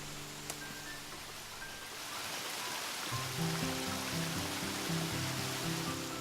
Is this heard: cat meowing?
no